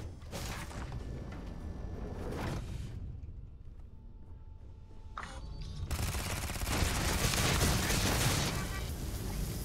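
Bursts of turret gunfire in the space game Starfield, rattling in rapid volleys at the start and swelling again into a loud, sustained barrage near the end, with a quieter mechanical lull between.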